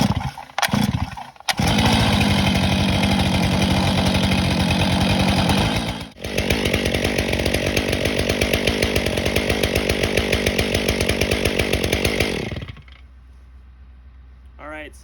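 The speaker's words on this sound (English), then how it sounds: "we've done our 20-minute idle to start the break-in process for this new Stihl 500i" A new Stihl 500i chainsaw runs during break-in, loud and close, with a sustained buzzing drone that dips briefly mid-way, then continues at a steady rhythmic idle before cutting off near the end.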